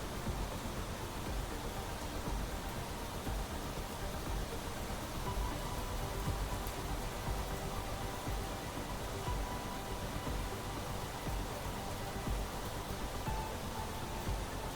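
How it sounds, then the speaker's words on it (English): Steady, even rain hiss fills the scene in the video game Planet Crafter, falling inside a portal area as a continuous soft wash with no breaks or voices. "it is raining inside the portal"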